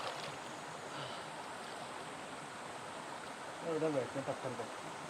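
Clear river water flows in a constant, even rushing hiss close by, with a voice briefly heard over it toward the end.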